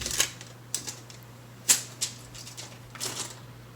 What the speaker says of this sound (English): Let me peel this off the fan.